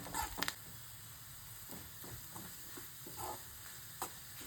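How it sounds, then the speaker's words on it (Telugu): Tempering spices sizzle in hot oil with a soft steady crackle, broken by a few clinks and scrapes of stirring. "ఈ పోపు అంతా ఎర్రగా వేగేంత వరకు మనం వేయించుకుందాం"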